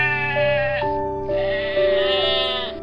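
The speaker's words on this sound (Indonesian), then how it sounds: "kambing itu berbunyi" A goat lets out a long, wavering, nasal bleat in several pitch-shifting pulses, close and loud, with no other sound around it.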